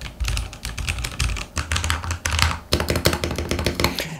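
Rapid, steady typing on a Ducky One 3 Mini 60% mechanical keyboard, a dense close clatter of key presses with brief pauses between bursts, no voices.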